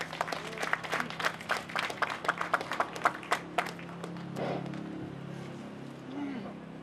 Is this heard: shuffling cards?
no